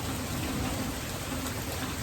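Steady rain falls in Middle Tennessee on a wet Easter, a dense, even hiss of drops on surfaces with no pauses, heard alone.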